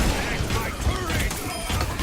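A defensive turret in the video game Overwatch fires continuously, with dense rapid clattering shots and mechanical whirring under busy game noise, a voice speaking over it.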